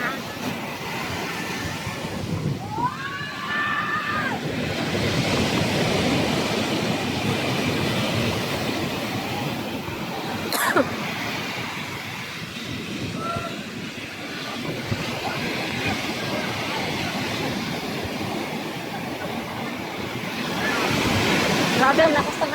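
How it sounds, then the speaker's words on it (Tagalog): Strong wind gusting by the sea, a loud roaring rush over crashing surf that swells and eases through the clip, with voices briefly heard against it. "Grabe ang lakas ng hangin."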